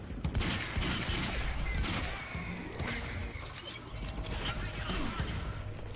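A shotgun fires in the Quantum Break video game, with sharp, loud blasts and mechanical clacks scattered across a few seconds of busy action.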